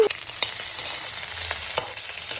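An egg fries in a pan for breakfast, a continuous close crackling sizzle with a few brief spatula taps, no talking.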